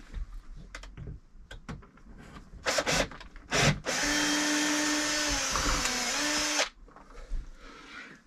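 A power drill whirs steadily for a few seconds through wood during boat maintenance, preceded by short bursts and scraping knocks as the bit sticks in the hole, close by.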